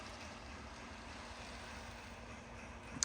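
A Lionel model train locomotive runs on outdoor garden track, giving a steady low rumbling hum with a faint whine, fairly quiet and continuous with no talking.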